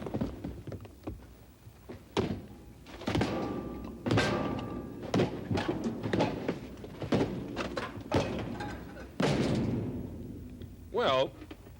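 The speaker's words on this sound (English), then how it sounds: "now we're going to see if the Roughneck will hold up to a banging on the side of the garbage" A Rubbermaid Roughneck plastic garbage can takes a series of hard, irregular thumps and bangs on its side, loud hollow knocks scattered through the stretch with brief rattles in between.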